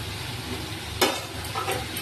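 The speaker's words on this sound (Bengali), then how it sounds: "আলুগুলো দিয়ে মশলা দিয়ে কষাতে থাকবো।" Potatoes tossed into a spiced masala, frying gently with a steady low sizzle and one sharp scrape of a spoon stirring midway, no voices.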